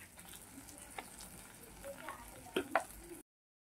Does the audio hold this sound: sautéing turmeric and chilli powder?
yes